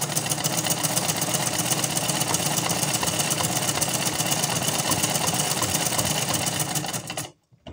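Sewing machine running steadily while stitching fabric to test a third stitch setting after adjusting a skipping stitch, a loud continuous rapid mechanical clatter that stops abruptly near the end.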